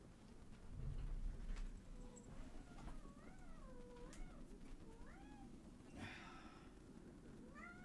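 A cat meows several times over a steady background of rain and low rumble, the rising and falling cries coming in a short run near the middle and ending with one last louder yowl.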